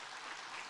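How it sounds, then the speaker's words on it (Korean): A church congregation applauds the choir after a song: a brief, steady wash of distant clapping, faint and continuous. "우리 한번 찬양대 한번 박수 한번 해줘요"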